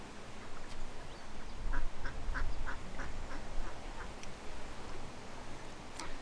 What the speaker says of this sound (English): You might be able to hear some ducks.